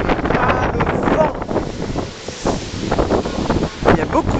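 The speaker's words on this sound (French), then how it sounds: "Il y a beaucoup de vent aujourd'hui." Strong wind blowing outdoors at Disneyland, roaring and buffeting straight into the microphone in heavy irregular gusts that fill the whole stretch, loud and close.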